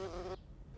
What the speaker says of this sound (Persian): آوازی زنبور رو میشنوید.